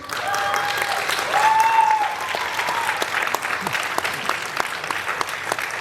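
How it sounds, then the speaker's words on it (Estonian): Crowd applause at a dance performance event, dense clapping filling the whole stretch at moderate loudness, with a faint whistle-like tone rising briefly near the start. "Teie tormilise aplausi saate Liia Luik"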